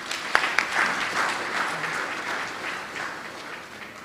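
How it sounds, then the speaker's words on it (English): An audience at a memorial lecture gives a round of applause, opening with a few sharp claps, then a full, even wash that tapers slightly by the end. "Let's give these supporters a resounding round of applause"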